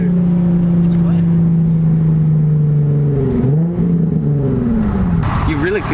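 A stanced Nissan 350Z with a Tomei exhaust holds a loud, steady droning rev, then dips and climbs through several throttle blips, heard up close with people talking nearby.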